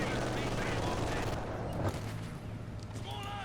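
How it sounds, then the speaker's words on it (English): Bursts of .50 cal machine gun fire in a video game battle, loud rapid automatic shots with distant gunfire behind, under a commentator's steady talk. "We got a 50 cal coming out from Dusty out of all the things."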